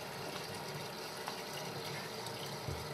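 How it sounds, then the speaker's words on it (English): Water runs steadily into a sangria bottle used as a homebrew mead fermenter, a constant faint gushing fill sound with no talking. "So we're just going to fill this up with water."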